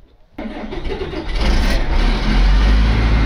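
A heavy diesel engine on a 50,000-pound excavator cranks and fires up after a brief silence, then settles into a loud, deep rumbling idle that grows stronger.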